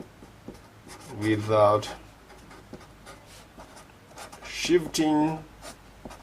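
A pen writes during a hyperbola math lesson, with faint scratchy strokes in the pauses between a man's speech.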